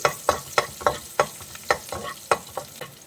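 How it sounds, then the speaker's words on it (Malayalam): Finely chopped garlic fries in very hot oil on a high flame, a steady sizzle punctuated by quick, rhythmic stirring taps of a spoon against the pan. "നല്ല ചൂടായ എണ്ണയാണ്, അതിലേക്ക് നമുക്ക് ഈ വെളുത്തുള്ളി ചെറുതായിട്ട് അരിഞ്ഞ് ഇട്ട് കൊടുക്കാം"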